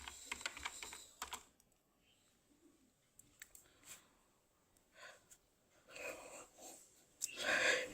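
Typing on a computer keyboard while searching for WordPress plugins, heard as scattered clusters of quiet key clicks in short bursts with pauses between, fairly faint and with no speech.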